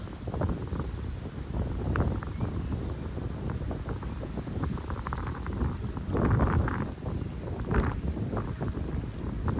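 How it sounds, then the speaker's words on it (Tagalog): Steady gusting wind sweeps through a broad park area with many tall trees, a continuous rushing roar that rises and swells at moments, with no talk over it. "Mahangin."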